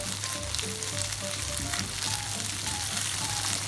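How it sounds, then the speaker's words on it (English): Gnocchi browning in a frying pan for Parmesan gnocchi give off a steady, close sizzle, a continuous crackling hiss with no talking over it. "So letting my gnocchi brown up a little bit here and there and gets a bit of a crispy outer layer"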